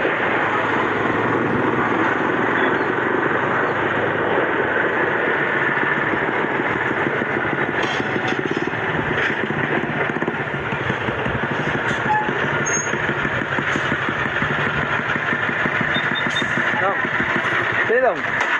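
A loud engine drones steadily throughout, close and continuous, with a low rumbling hum and no pauses.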